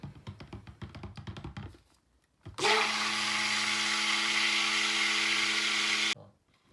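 Electric stick blender whirs loudly and steadily through lard soap batter scented with Rose Garden fragrance oil, a sustained motor drone of several seconds that starts abruptly after a brief quiet and stops sharply, following some earlier tapping and handling sounds.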